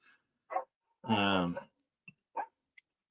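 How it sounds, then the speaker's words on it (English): Several dogs barking at a live podcast show taping, with short separate barks and one longer drawn-out bark-whine, fairly faint and spread out with quiet gaps between them. "Sorry about the dogs barking."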